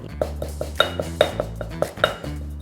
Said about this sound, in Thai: เราตำเครื่องแกงส้มกันก่อนเลยนะคะ